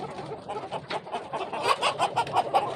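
Black Chinese chickens clucking in a busy group, overlapping calls rising and falling steadily, fairly close with a noisy farmyard background.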